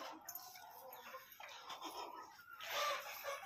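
Chickens cluck in a coop or pen, a mix of hens with black and red birds nearby, making soft, busy overlapping clucks and calls that swell louder near the end.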